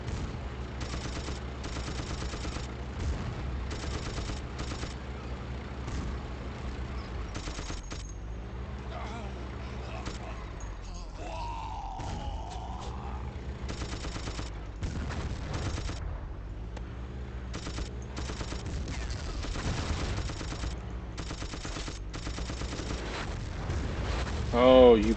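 A machine gun fires in the Battlefield 1942 video game, with repeated bursts of rapid shots and distant booms over a long stretch. Someone talks over parts of it.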